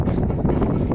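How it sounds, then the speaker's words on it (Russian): Strong wind buffets a microphone at a tent campsite during a motorcycle trip to Crimea on an Avantis Enduro, producing a loud, continuous low rumble with no pauses. "ветер сильный"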